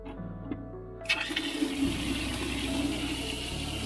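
Water from a well starts rushing through a pipe at a building site in winter after a brief quiet moment, then keeps flowing in a steady, gurgling stream.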